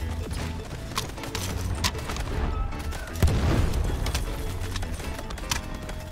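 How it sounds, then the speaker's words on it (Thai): Explosions and gunfire in the war video game Delta Force: Hawk Ops, a dense battle mix of rapid shots and a loud boom near the middle, with a constant clatter throughout. "ดูระเบิดเข้าไปครับ"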